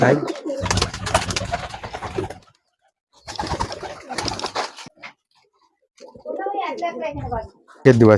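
Female pigeons coo softly in short bursts, with a person speaking between and over the calls.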